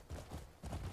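Horse hooves clip-clop in the video game Crimson Desert, a close, steady trotting rhythm with two clustered bursts of footfalls across a second.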